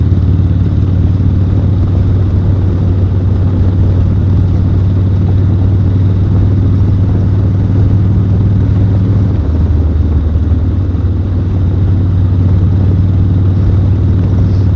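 A 1986 Harley-Davidson 883 motorcycle rides along at around 40 mph, a loud, constant engine drone mixed with wind rush, the note dipping slightly midway.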